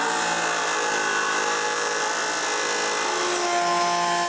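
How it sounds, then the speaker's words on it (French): A drill bit cuts a V groove around a plywood pulley with a continuous high-pitched whine, steady and close throughout, its tone shifting slightly near the end. "j'utilise une mèche pour faire des champs sur du contreplaqué et je coupe un V tout le tour de la poulie"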